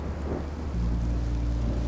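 Steady rain with a deep rumbling thunder swell in the Minecraft: Story Mode video game, a constant loud wash that thickens into a heavy low roll partway through, with no voices.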